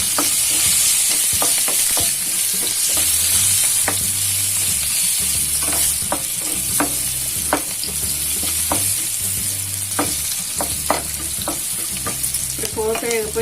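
A metal spoon stirs a sizzling tempering with asafoetida in a hot pan for mango dal, with steady frying crackle and repeated sharp scrapes and clinks of the spoon against the pan.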